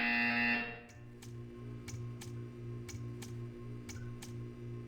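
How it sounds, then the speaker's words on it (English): A Portal 2 video game buzzer sounds in a steady series of short, evenly spaced beeps, about one per second, following a loud tone at the start, clear and alone in a quiet test chamber. "You will hear a buzzer. When you hear the buzzer, stare at the art."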